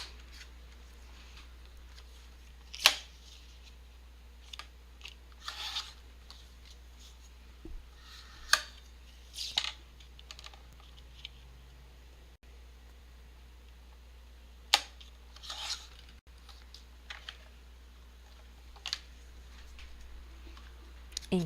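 Scissors cut card stock paper down to small junk journal tags in a home craft room, giving scattered quiet snips and brief rustles spread irregularly across a low steady hum.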